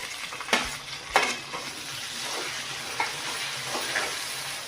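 Onions and tomatoes frying in a pan for pav bhaji: a steady close sizzle broken by a few sharp stirring scrapes, with no talk.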